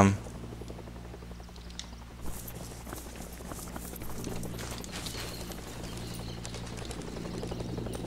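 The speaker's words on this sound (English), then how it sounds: "definitely hear another chopper coming." A helicopter approaches in the DayZ video game, a steady rhythmic rotor chop building slightly louder over the middle of the clip amid continuous mechanical rumble.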